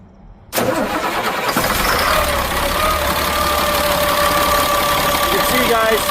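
A 2000 Freightliner FL70 truck's diesel engine cranks and catches after a brief quiet moment, then settles into a loud, steady, rumbling idle close by.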